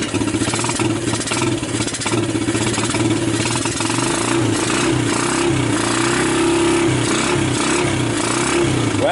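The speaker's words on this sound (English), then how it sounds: "Oh, it's even going to idle." A vintage Suzuki Quadrunner LT125 ATV engine idles steadily and loudly up close, a continuous low mechanical rumble with a faint rattling throb running through the whole stretch.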